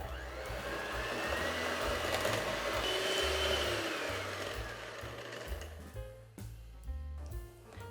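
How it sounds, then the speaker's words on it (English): An electric mixer creams butter and light brown sugar for a Biscoff chocolate chip banana bread: a steady, loud motor whir for about five seconds, then uneven bursts as the beaters shift through the mixture. "I'm going to mix this together now till it's nice and light and fluffy."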